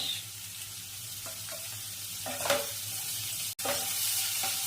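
Soaked raisins fry in tempering oil on low heat for lemon rice, a steady soft sizzle with occasional faint pops and a brief stir, close and without speech.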